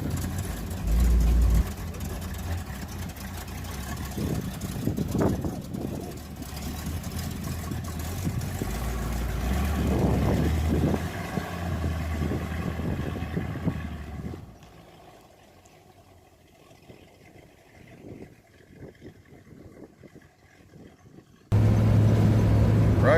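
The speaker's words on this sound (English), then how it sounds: "Riding in a Bricklin." Inside a moving 1975 Bricklin SV-1 sports car, a mid-pitched engine drone and road rumble rise and fall, then drop to a quieter stretch before a sudden loud burst near the end.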